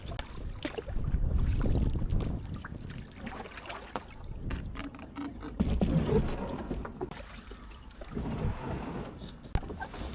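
A Cambridge Kayaks Adventure 350 kayak launches over rollers into water, a low rumbling, knocking roll with splashy wash, close and uneven, mixed with wind buffeting the microphone.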